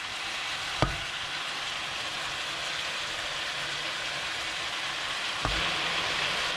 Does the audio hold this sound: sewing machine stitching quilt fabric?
no